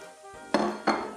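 Plain flour being stirred into sweated-down vegetables in a soup pot, heard as two sharp, close scraping clatters of a utensil against the pot.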